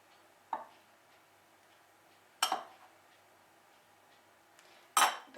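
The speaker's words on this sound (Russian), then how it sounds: "Теперь будем добавлять какао и муку. И просеивать через сито." Three sharp metallic taps of a sieve sifting cocoa and flour at uneven intervals, each followed by a brief rattle, with near silence in between.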